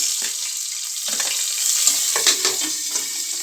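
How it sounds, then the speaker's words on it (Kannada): Onions hitting hot oil in a pan for an egg and hyacinth bean sambar, a steady close sizzle with scattered crackles and stirring clinks, no talking. "ಇವಾಗ ಎಣ್ಣೆ ಕಾದಿದೆ ನಾನು ಈರುಳ್ಳಿನ ಸೇರಿಸ್ಕೊಳ್ತೀನಿ"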